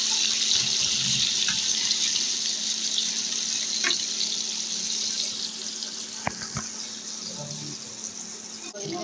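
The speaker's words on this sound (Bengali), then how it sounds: "আগে থেকে তেল গরম করা ছিল, মাছটা দিয়ে দিলাম" Fish frying in pre-heated oil gives a steady, dense hiss with broadband crackle throughout, a few sharper pops standing out near the end.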